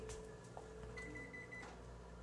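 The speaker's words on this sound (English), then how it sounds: "Johnny, get your waffle that's in the microwave before you eat" Microwave oven humming steadily while heating a waffle, a constant faint drone with a brief higher tone partway through and no talking.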